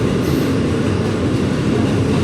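NYC subway R211 train on its way to the Coney Island train yard, a steady loud low rumble of the moving car, heard close from inside.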